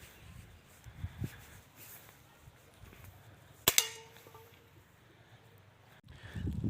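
A single sharp crack of an air rifle shot rings out in an otherwise quiet setting, followed by faint rustling and small background noises.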